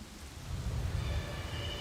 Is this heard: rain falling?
yes